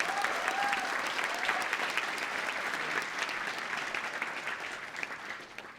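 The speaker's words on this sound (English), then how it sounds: "can we give a round of applause to the creator of JavaScript" A React developer conference crowd gives a round of applause, steady dense clapping from a large audience, somewhat distant and even, slowly fading toward the end.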